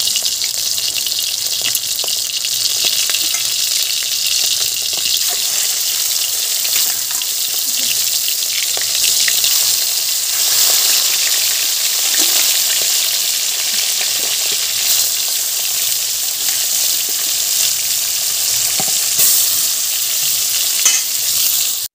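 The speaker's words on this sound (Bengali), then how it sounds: "দেখো মাছগুলো লাল লাল করে ভাজা হয়ে গেছে" Rohu fish pieces frying in a pan crackle and hiss with a continuous, close sizzle, broken by faint scraping stirs over a long stretch without talk.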